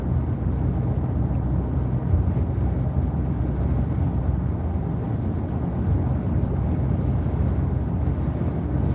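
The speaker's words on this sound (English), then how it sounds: "It's windy today, huh?" Strong outdoor wind roars steadily into the microphone beside a parked car with its windows down, a dense low rumble with gusty buffeting throughout and no talking.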